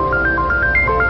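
A mobile phone ringtone plays a bright, repeating electronic melody of short stepped tones, steady and fairly loud, with no talking over it.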